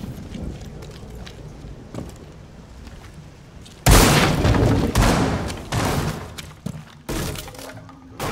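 A sudden loud breaching blast in the video game Rainbow Six Siege bursts after a few quiet seconds of faint taps and footsteps, followed by scattered crashing debris and thuds.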